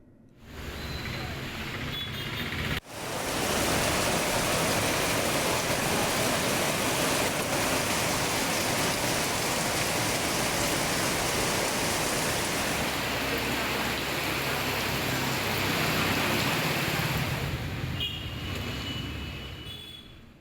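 Heavy monsoon-season rain pours down in Tamil Nadu as a loud, dense, unbroken hiss that holds steady for about twenty seconds, with a brief sharp knock near the start.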